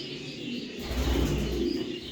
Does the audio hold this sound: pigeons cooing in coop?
yes